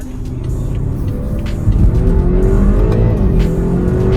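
A BMW X4 accelerates up close, its engine note climbing steadily in pitch as it pulls, loud and continuous with a slight surge partway through and no speech.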